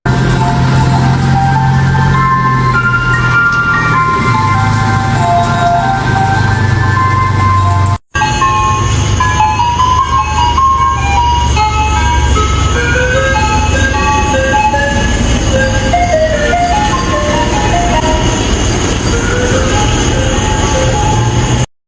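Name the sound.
ice cream truck playing its jingle at night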